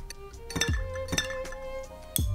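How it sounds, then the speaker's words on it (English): Ice cubes clinking against the inside of a glass of tea, three distinct bright chimes spaced apart, close and alone with no talk. "I'm gonna put ice in my tea."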